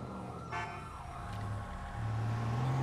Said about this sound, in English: you don't need to blip the siren.